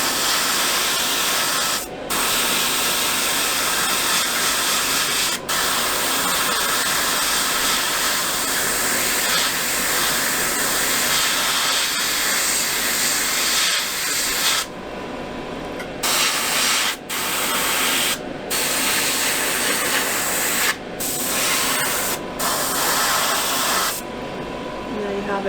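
Airbrush spraying thinned paint, about half thinner and half paint, onto a Zvezda 1/48 scale SU-57 model kit: a close, steady hiss in long bursts, with several short pauses where the spray stops.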